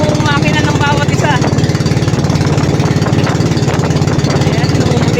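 A loud, steady fishing boat engine chugs at sea with a fast regular throb throughout, close by, with a faint voice briefly audible at the start.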